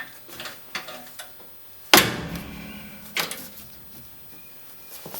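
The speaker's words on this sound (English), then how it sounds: "Then we'll give it a slam and see what happens." A Jeep XJ rear tire carrier is slammed shut with one loud, sharp metallic bang that rings out briefly, followed by a smaller knock; there is no talk.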